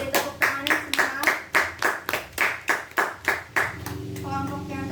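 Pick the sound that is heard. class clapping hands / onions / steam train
class clapping hands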